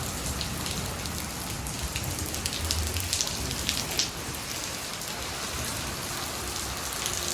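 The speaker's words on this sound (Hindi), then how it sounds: "आज फिर बारिश होने लगी है।" Steady rain falls on a farm field, a soft, even patter of drops throughout, with no voices and no thunder.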